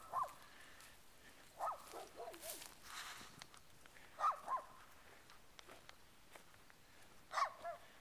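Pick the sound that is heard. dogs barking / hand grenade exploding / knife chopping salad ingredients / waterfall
dogs barking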